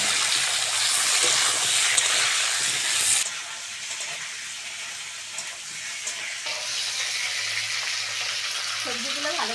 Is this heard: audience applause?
no